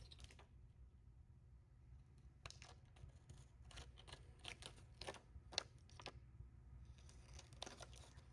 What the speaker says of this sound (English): I'm actually going to trim it because it is touching like the seam part.